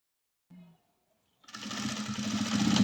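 Following a brief short sound and a pause, a sewing machine starts up close by and runs steadily while stitching a blouse, growing slightly louder.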